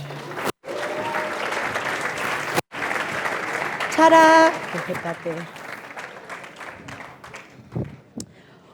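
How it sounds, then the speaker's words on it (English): Applause from the audience at a trophy unveiling during a 2023 business awards ceremony: sustained, close crowd clapping with two brief cut-outs. A presenter speaks over it, and it thins toward the end. "as we remove the cloth, please applaud."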